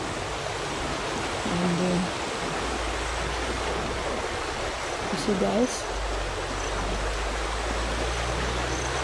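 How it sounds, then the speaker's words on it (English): A steady rushing wash of flowing water over damaged, weak ground beside a fence, continuous and close, with someone talking over it. "That's the water."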